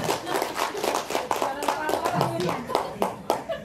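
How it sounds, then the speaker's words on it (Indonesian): Audience clapping at an educators' sharing session, irregular bursts of hand claps with a voice talking over them. "Tepuk tangan dulu ya."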